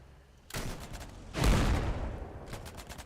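Gunfire in the war game Foxhole, two heavy shots from the player's gun, the second louder and booming, each trailing into a rumbling decay, then lighter distant crackles follow.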